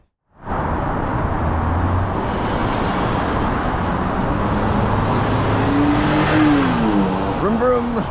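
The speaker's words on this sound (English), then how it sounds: "Vroom vroom. I'm in me mom's truck." A truck rumbles and accelerates along a city street, with broadband engine and road noise holding steady throughout and rising slightly near the end. A voice speaks over it toward the close.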